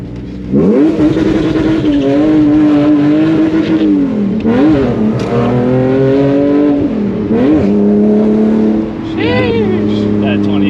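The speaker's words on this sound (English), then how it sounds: "Like if I'm wide open throttle and I clutch dump right here" Drift car with an upgraded transmission revving hard on a test drive, engine pitch climbing and dropping through repeated throttle bursts, loud and close, with someone talking over it.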